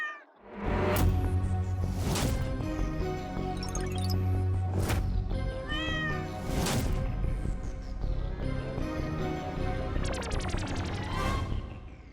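A cat meows several times in a Hindi TV sitcom, Taarak Mehta Ka Ooltah Chashmah. The sharp, near cries repeat over loud, busy music and punchy sound effects.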